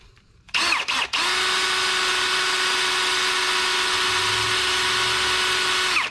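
After a brief rattle and a false start, a power drill fitted with an extractor-set bit spins up and holds a steady, close, high-pitched whine while boring out a broken bolt on a rusty Lexus engine.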